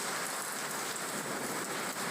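Rain falls steadily in a dense, even hiss of drops on surfaces, a close, continuous patter with no voices or other sounds.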